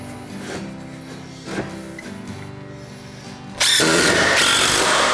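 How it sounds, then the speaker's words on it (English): Impact driver running a screw through a board into hardwood, a sudden loud sustained whirring burst near the end after quieter handling noises over a background hum. "We're temporarily screwing this in place up against the straight edge"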